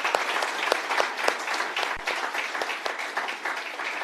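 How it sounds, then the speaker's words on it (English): Audience at an authors forum gives a round of applause, lively clapping with distinct sharp claps standing out over the steady patter. "let's give them a round of applause."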